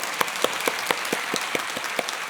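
Church congregation applauding during a Sunday worship service, a steady, fairly close wash of many hands clapping with sharper individual claps popping out about every quarter second, no voices.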